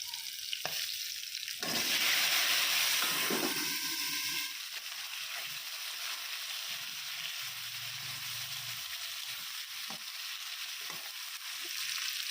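Chopped garlic and potato go into hot oil for a pangas fish curry, with a loud burst of sizzling that settles into a steadier, quieter frying hiss broken by occasional stirring clicks.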